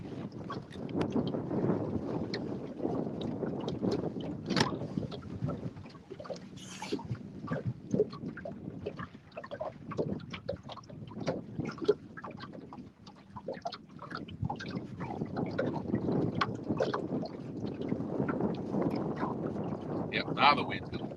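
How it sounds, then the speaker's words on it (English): Gusting wind buffets a camera microphone outdoors on a boat in Louisiana, a continuous rough low roar with scattered crackles and knocks throughout. "I don't know how much wind noise I have on the camera."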